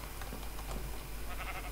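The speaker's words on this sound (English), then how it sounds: "So we can just jump in and say hi to the sheep." Sheep bleating in Minecraft, a couple of short nasal bleats close by over a steady hum of background noise.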